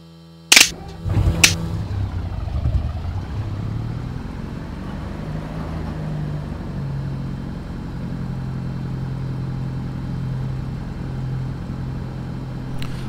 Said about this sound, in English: fuel pump is done, and we will get the aircraft started.